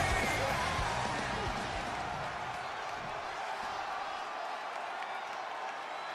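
WWE 2K25 arena crowd cheers and applauds a wrestler's entrance, a broad, fairly distant roar that starts fullest and slowly eases a little, steady and continuous, with a commentator talking over the top.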